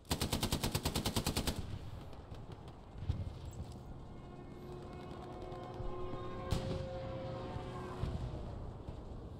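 Rapid machine-gun bursts open a round of Hell Let Loose, a World War II shooter, then sporadic single shots and distant gunfire crack over a busy battlefield din with faint engine-like drones.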